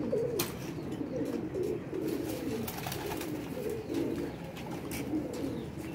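Young pigeons cooing in soft, repeated low murmurs, close by and fairly quiet, with occasional light chirps and rustles between the coos.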